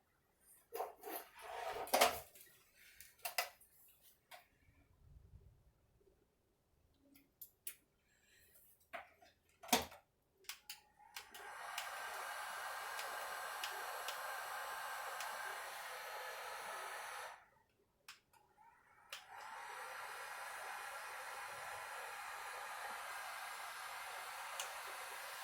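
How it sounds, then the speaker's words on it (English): A heat gun blows steadily on fresh epoxy on a bathroom vanity backsplash, a continuous airy roar that stops briefly and restarts, after scattered clinks and handling noises. "I'm gonna get the heat gun out."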